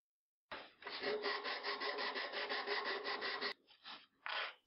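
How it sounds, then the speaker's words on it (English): Sandpaper rubs back and forth rapidly on a wooden rubber band gun grip, a close, dry rasping run of quick strokes, pausing briefly before two shorter passes. "Sand down sharp edges and the base of the grip."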